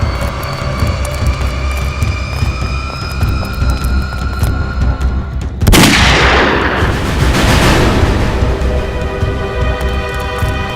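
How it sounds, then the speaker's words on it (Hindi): In a Hindi crime TV drama, a single loud, sharp gunshot blast cuts through a steady roaring engine drone, leaving a long rumbling decay. "गोली चलने की आवाज।"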